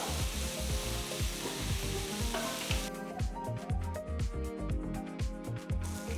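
Four large, finely chopped onions sauté in a pan for a mutton curry, giving a continuous, even sizzle that runs under background music.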